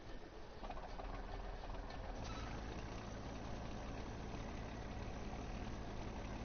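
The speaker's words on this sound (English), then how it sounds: "are you ready for the roar of this tractor?" A 180-horsepower tractor engine in Farming Simulator 17 on the Ballycraig Estate map gives a steady, loud, low rumble that holds even and unbroken after a brief rise at the start.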